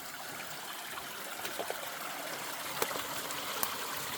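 A creek flows steadily at low volume, a continuous soft wash of moving water with faint trickles. No voices are heard.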